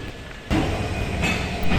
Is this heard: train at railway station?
yes